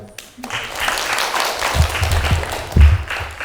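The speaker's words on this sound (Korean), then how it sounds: "박현호 교수님께 다시 한번 큰 박수 부탁드리겠습니다" Audience applause at a science lecture swells and holds, a dense wash of many hands clapping, fairly loud, with a few low thumps near the end.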